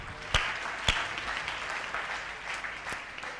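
Congregation at a Christmas church service claps together in a moderate, steady patter, with a few sharp louder claps standing out near the start.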